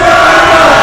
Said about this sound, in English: He's trying to get a crowd up.